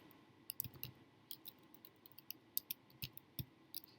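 Keys clack on a computer keyboard in an irregular run of quiet close taps, a few slightly sharper strokes mixed in, with no talking over them.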